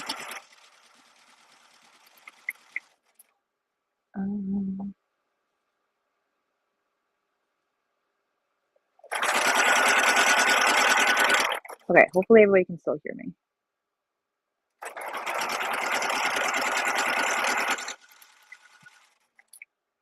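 A sewing machine runs in two separate bursts of about three seconds each, a steady buzzing whir, with a person talking between them and a short clatter of handling in the gap.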